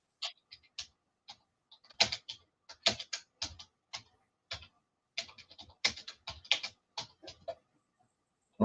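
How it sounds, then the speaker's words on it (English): Irregular bursts of clicky keystrokes on a computer keyboard, close and fairly loud, with brief pauses between flurries of typing. "My fingers are not typing well today."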